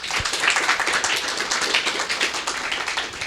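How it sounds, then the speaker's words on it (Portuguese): An audience breaks into applause, a dense run of many hands clapping at a steady level for several seconds, fairly close and with no talk. "Uma salva de palmas"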